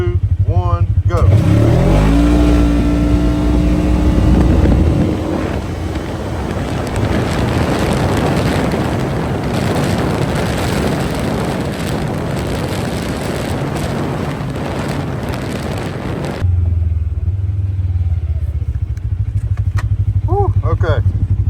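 A Segway UT10 side-by-side on its stock tune accelerates hard in high gear toward top speed, its engine a loud, steady rising roar mixed with heavy wind rush; the revving climbs at the start, then drones on before easing near the end.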